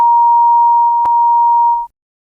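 A loud, steady pure-tone censor beep covers a spoken number, holding one pitch for nearly two seconds before cutting off into silence.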